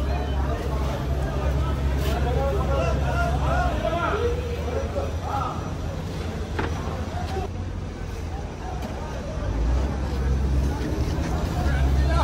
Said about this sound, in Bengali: 10 দিন পর এই ট্রলারটা ফিরছে